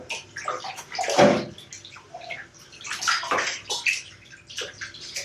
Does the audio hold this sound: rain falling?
no